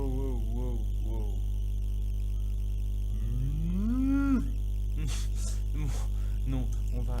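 A cow moos in a modded game where the player is morphed into one, with several long rising and falling lowing calls over a constant loud low hum, followed by short clattery noises.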